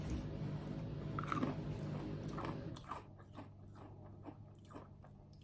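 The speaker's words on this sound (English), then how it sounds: "I'm going to have to cut out all the clips of me chewing." Chewing on a smoothie bowl, close and steady, with crunchy bites and wet mouth sounds over several seconds and no talking.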